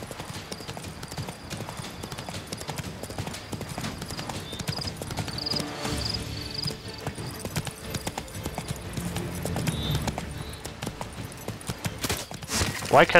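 Hooves of the horse in The Witcher 3 clip-clop steadily in a regular walking rhythm across the whole stretch, fairly close and loud, with someone talking over them at times.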